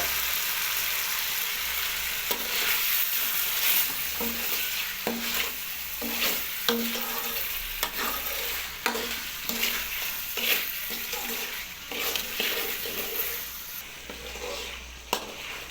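Chicken pieces sizzle steadily in a pan as a spoon stirs them, with repeated scraping strokes and soft clinks over a constant close frying hiss.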